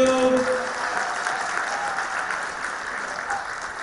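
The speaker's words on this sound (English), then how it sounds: "can we have a round of applause, please?" Audience applause at a live stage event honouring Shiamak Davar and Marzi, a dense, steady clapping from a crowd that fills the whole stretch at a fairly even loudness.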